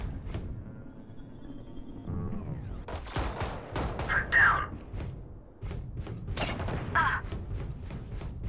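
Valorant gunfire in a casual match, with several sharp bursts and thuds spread through the clip, mixed with game effects and heard under players talking.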